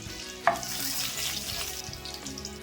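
Chillies dropped into hot oil in a pan for tempering, giving a crackling sizzle that starts with a sharp pop and then settles into a steady frying hiss.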